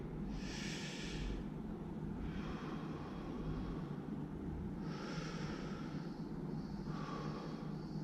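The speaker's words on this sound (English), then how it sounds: "This is chest breathing." Slow chest breathing in a breathing exercise, with four soft, airy inhale-exhale hisses spaced evenly over a steady low background hum.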